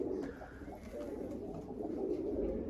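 Pigeon cooing from a four-year-old male tumbler pigeon in flight, a steady soft murmur of bird sound with faint chirps, fairly quiet and continuous throughout.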